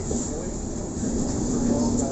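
Steady rumbling of a moving train in Sydney, a continuous low roar with rattling undertones from inside the carriage.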